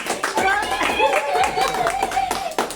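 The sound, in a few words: people clapping for New Year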